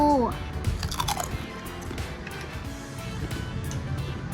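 Crispy salted fried chicken being bitten and chewed up close, several loud crunches and wet chewing sounds in an irregular rhythm, with a short voice at the start.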